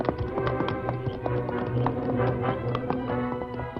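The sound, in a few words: horses trotting off, Silver and Scout, radio drama effect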